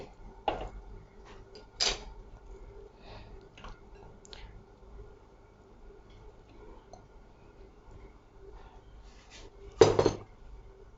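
About 500 grams of chicken going into a cooking dish, with a few sharp clatters of meat and utensil against the vessel, near and isolated over a quiet kitchen background.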